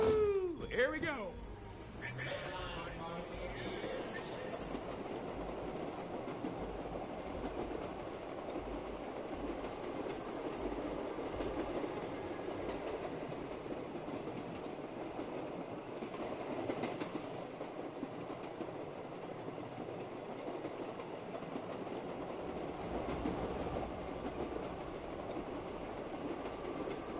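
A train ride rolling along the tracks: steady rumble and clatter of the railcar running continuously, with a squeal and a voice near the start and people talking now and then over the moving train.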